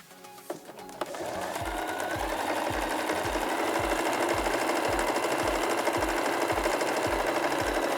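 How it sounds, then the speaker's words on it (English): A sewing machine stitching a fabric strip runs after a couple of soft clicks, settling into a steady, close mechanical hum with a quick regular thumping beat of the needle, continuous and alone. "then you start sewing again so that the gap will be used to flip out the strip."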